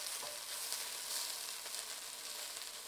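Onions sizzle in a pan with salt, frying in ghee for an Ethiopian Doro Wat stew, a soft, steady crackling hiss with faint stirring, fairly quiet and with no talking.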